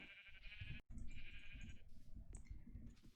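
Sheep bleating in Minecraft, several close, nasal bleats in quick succession over soft background game noise.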